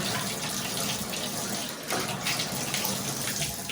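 Water runs steadily from a Delta shower turned to the hot side, a continuous close rushing hiss with no talk over it.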